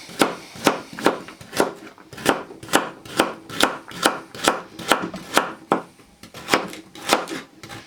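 A knife chopping carrot on a cutting board in a home kitchen, a steady run of about twenty sharp, close taps in a quick even rhythm with no talking.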